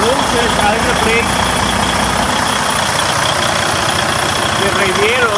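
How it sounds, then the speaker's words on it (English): A Freightliner Cascadia with a DD13/DD15 diesel engine idles during radiator replacement work. It gives a steady, close, low rumble throughout, while someone talks over it. "I'm going to let the engine run for a while until the temperature reaches its maximum."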